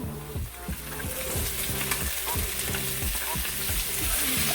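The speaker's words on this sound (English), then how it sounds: "I'm going to go in with those pieces of pumpkin" Pumpkin pieces frying in a pan, a loud continuous sizzle with a rapid repeating rhythmic scraping pattern from stirring, close and without talk.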